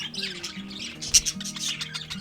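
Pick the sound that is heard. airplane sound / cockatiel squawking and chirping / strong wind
cockatiel squawking and chirping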